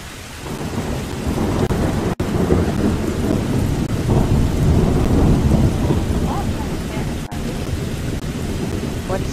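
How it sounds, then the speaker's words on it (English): Thunderstorm in a farming video game: steady heavy rain hiss with rolling low thunder rumbling continuously at a strong level, briefly cut by a couple of glitches. "it's storming"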